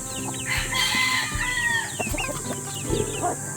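Several chickens cluck and a rooster crows in a busy, overlapping mix of squawks and calls, with a few dull thumps, close and steady throughout.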